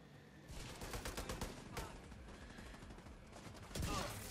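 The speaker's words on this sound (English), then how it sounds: "I'm really liking this model 700, man. I love the sound of it." A Model 700 bolt-action rifle in The Division 2 fires several heavy shots with echoing tails, some distant gunfire in between and a louder blast near the end, under occasional voice sounds.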